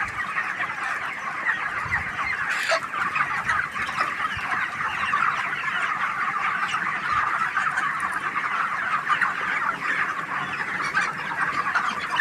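A crowd of 32-day-old broiler chickens on a poultry farm keeps up a constant dense clucking and chattering, fairly close and steady for the whole stretch, with no talking.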